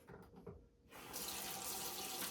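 An AeroGarden pump covered in roots is rinsed under a running kitchen tap. Soft handling noises come first, then a steady, close rush of flowing water fills the rest.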